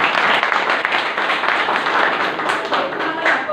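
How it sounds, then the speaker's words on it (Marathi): An audience claps through a product demonstration of Enagic Kangen water, a loud, dense patter of applause that runs steadily the whole time with no voices on top. "जोरदार टाळ्या यांच्यासाठी."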